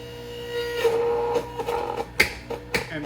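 A PURE juicer motor starts up and runs while juicing spinach, a close electric hum with rising whine, followed by sharp intermittent clacks and knocks.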